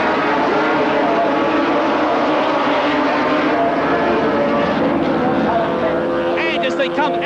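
Formula 750cc racing motorcycles, Yamaha and Kawasaki, at Brands Hatch in 1977: a loud, continuous roar of engines at full throttle with revving whines, heard under a race commentator's voice.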